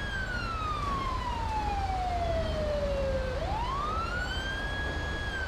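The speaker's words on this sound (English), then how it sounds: "God, that fucking siren." A video game police car siren wails steadily, its tone sliding slowly down then sweeping back up, loud and continuous over a low rumbling background.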